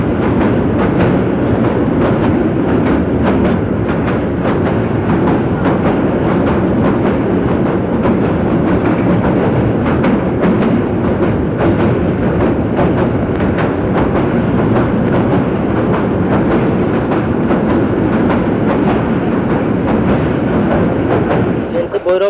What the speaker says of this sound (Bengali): যেটি এখন এখানকার সবচেয়ে পুরনো রেল সেতু শহীদ হাবিলদার আব্দুল হালিম সেতু ক্রস করে যাচ্ছে